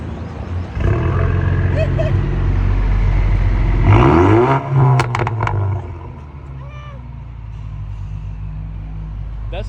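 A straight-piped four-cylinder BMW cold-starts with a loud raw exhaust bark, rises into a sharp rev, then settles into a loud, steady, rumbling high idle.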